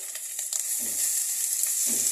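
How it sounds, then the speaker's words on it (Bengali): Amudi fish frying in hot oil, a close, continuous crackling sizzle heard alone with brief spatters throughout. "মাছ ভাজা হচ্ছে আমুদিনী মাছের ভাজা"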